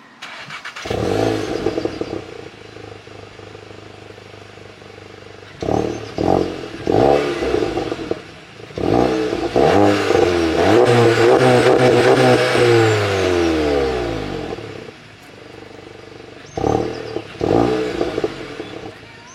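A Volkswagen Golf 7 GTI Performance with an automatic gearbox starts and drives off for a road test, giving loud revs, a long rising acceleration with crackles, and short bursts of engine noise alone.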